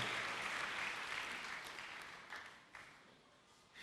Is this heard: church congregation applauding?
yes